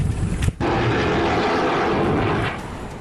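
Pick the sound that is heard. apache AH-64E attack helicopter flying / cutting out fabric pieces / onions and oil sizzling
apache AH-64E attack helicopter flying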